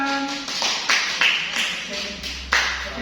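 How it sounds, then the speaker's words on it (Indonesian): Classroom audience clapping in a short burst of several sharp hand claps, with a voice over the applause. "Beri tepuk tangan."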